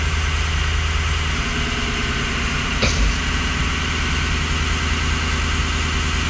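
A turbocharged engine with a stuck turbo idles steadily, a dense, even rumble with a constant low hum throughout and one brief clunk midway, no talking.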